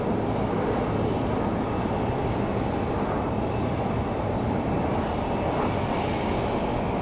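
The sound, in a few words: Republic Airways airliner landing on runway 5 right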